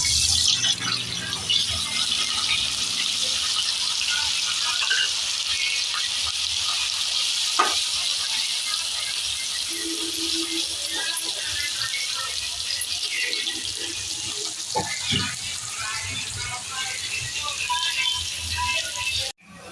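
Bitter gourd pieces deep fry in hot oil, a steady, broad, close hiss of bubbling oil running throughout with a few faint clinks and stirs, ending abruptly.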